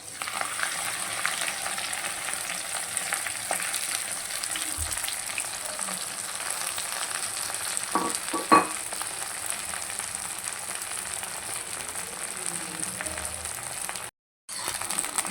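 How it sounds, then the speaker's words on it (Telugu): Gongura (sorrel) leaves fry in a pan for masala pulihora, giving a steady, close sizzle and crackle throughout with a few clinks of a stirring utensil and a brief dropout near the end. "గోంగూర మంచిగా ఫ్రై అవ్వాలన్నమాట"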